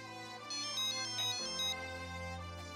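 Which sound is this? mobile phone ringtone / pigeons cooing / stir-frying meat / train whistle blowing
mobile phone ringtone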